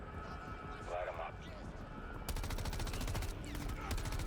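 Gunfire and explosions from a video game trailer shown at Gamescom 2023: dense rapid bursts of shots fill the second half, over a rumbling mix, with a person talking throughout.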